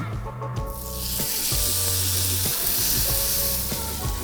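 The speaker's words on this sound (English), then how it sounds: "let's wait for the magical sizzle, everyone" Loud, steady sizzling of steak frying in hot oil, a dense hiss that swells after a brief quieter start, with occasional low clunks of the pan.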